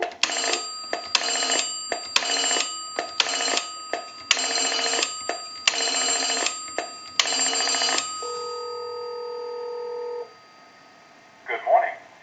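A telephone line on an Automatic Electric payphone converted for home use rings back repeatedly while dialing a time-and-temperature number, loud evenly spaced tone bursts followed by two steady tones and then a brief sound at the end.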